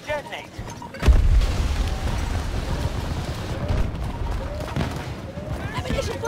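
An explosive charge detonating in Battlefield 2042, one loud, deep boom followed by a long rumbling tail of battlefield noise and distant shots.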